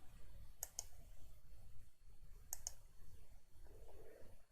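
Two pairs of sharp computer mouse clicks, near and distinct, one pair early and one about two seconds later, set over a low steady room hum with no talking.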